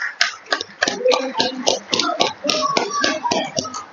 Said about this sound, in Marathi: या सर्व प्रेसिडेंटसाठी परत एकदा जोरदार टाळ्या